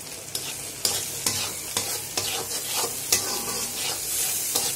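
Spices including salt, chili, turmeric and cumin powder fry in a hot pan with a loud continuous sizzle, broken by repeated scraping strokes of a spatula stirring at a fairly steady rhythm.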